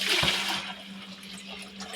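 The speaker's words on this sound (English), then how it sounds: "I'm going to take this water, dump it right back in there." Water dumped from a container back into another vessel during an electronics lab, a single close splashing pour that peaks early and then trails off into a steady low hum.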